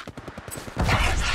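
Gunfire in the mobile battle royale game Apex Legends Mobile, a few quick distant pops followed by a loud, dense burst of automatic fire that fills the rest of the moment.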